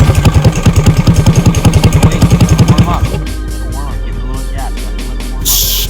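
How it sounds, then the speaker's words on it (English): Go-kart engines at a karting track sputter to life, one close engine chugging in a fast steady pulse for about three seconds before dropping into a rougher, quieter idle. "Drivers, start your engine."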